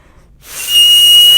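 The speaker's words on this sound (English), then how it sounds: "It was a whistle." A sharp, piercing whistle starts abruptly after a brief silence and holds steady and loud for about a second, close by with no talking over it.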